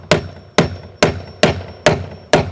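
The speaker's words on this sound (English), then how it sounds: "just get a hammer and just nail it down" Hammer nailing down a loose garage door seal: six sharp, loud metallic strikes spaced evenly about half a second apart, each ringing briefly, close up with no speech.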